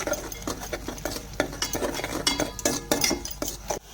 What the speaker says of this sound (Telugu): ఎండుమిరపకాయలు వేసుకొని వాటిని వేయించుకుందాం.